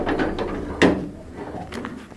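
A door pushed shut in a home during a heated household argument, giving one sharp knock near the middle, with a further light clunk a second later and a background of room noise.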